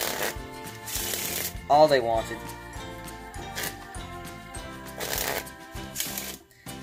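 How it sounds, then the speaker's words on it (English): Deck of playing cards being shuffled by hand in bursts of rapid riffling clicks, with a voice speaking over the shuffling. "So the spectator could shuffle these cards up"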